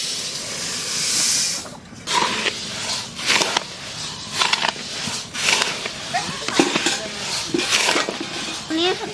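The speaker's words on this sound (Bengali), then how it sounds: "তার আগে চালটা একটু গরম করে নেব" Rice being heated in a pan before puffing at home makes a steady hiss with repeated metallic scrapes and clinks of a utensil against the pan, and a voice talks over it.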